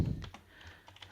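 Soft typing on a computer keyboard, a few light scattered key taps, faint and close, after a low thump at the start.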